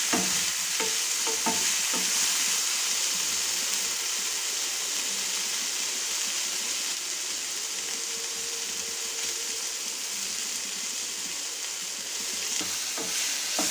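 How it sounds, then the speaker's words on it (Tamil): Tomatoes sautéing and being stirred in a pan for Tamil-style egg curry (muttai kulambu), a steady close sizzle and hiss with occasional scraping stir strokes throughout, no voices. "தக்காளி நல்லா வதக்கணுங்க."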